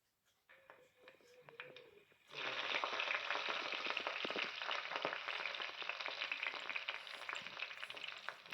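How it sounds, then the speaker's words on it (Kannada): Oil crackles and sputters steadily after a brief quiet start, a dense, close sizzle of spices and curry leaves frying for a tempering that continues without a break. "ಸ್ವಲ್ಪ ಅದು ಚಟಪಟ ಸೌಂಡ್ ಬರ್ತದಲ್ಲ, ಸ್ವಲ್ಪ ಉರಿಬೇಕು, ಎಣ್ಣೆಯಲ್ಲಿ ಸ್ವಲ್ಪ ಉರಿಯಿರಿ"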